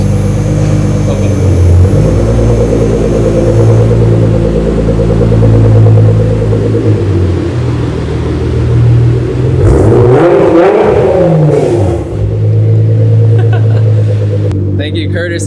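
A Nissan GTR with a new Fi exhaust, valves open, rumbles loud and close with a deep steady idle, then flares through a sharp rev around the middle before settling back to a heavy drone.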